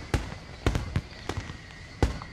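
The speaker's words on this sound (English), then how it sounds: "ready to explode in the floral shapes of fireworks" Fireworks burst in the visual novel Katawa Shoujo, a series of sharp distant pops and cracks at irregular intervals over a steady low hiss, with no talking.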